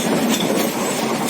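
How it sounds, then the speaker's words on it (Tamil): Yercaud Express passenger train running at speed on rails, a steady, loud rushing rumble of wheels and carriages that continues without a break and with no voices. "ஒரு 150 கிலோமீட்டர் ஸ்பீடில் போனாங்க ட்ரெயின்."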